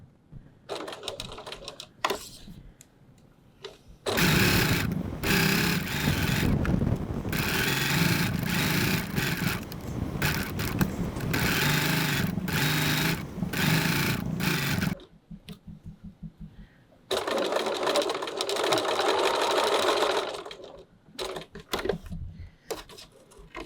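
Sewing machine stitching a fabric pouch with a 1 cm seam allowance and 2.4 stitch length, fast mechanical whirring runs of about eleven and six seconds with short taps and pauses between, close and loud.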